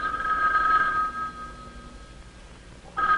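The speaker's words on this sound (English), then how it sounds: "Now the phone rings." A telephone bell rings on a 1960 Bell System farm telephone, a bright double burst of tone at the start, a pause, then ringing resuming at the end.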